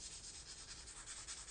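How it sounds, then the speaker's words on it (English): Fine sandpaper or a fine sanding stick rubbed back and forth in changing directions, giving a soft, steady, close-up scratchy hiss that stays even throughout with no talking. "I'll try to mix up the direction I sand in."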